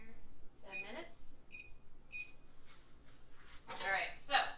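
Electronic kitchen timer beeping a few short tones while being set for ten minutes, in a home kitchen during dinner preparation, with a voice speaking nearby.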